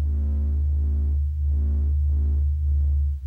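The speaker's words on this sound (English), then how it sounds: "This is the sound of the sun singing." The sun's oscillating pressure waves, sped up into audible range, make a low, steady droning hum with pulsing overtone layers that swell and fade in a slow, even rhythm, with no voices.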